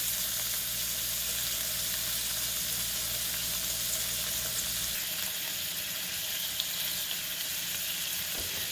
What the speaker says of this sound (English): So I'm going to get this meat browned